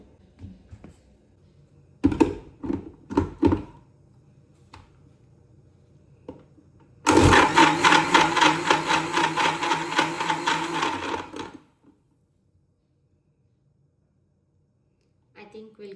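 A kitchen blender whirring through cake batter made with sugar and vanilla essence, one loud continuous burst of about four seconds, preceded by several short thumps and clatter.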